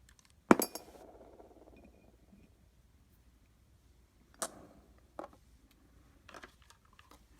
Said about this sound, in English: a couple of the glass gems have fallen down, so let's stick some more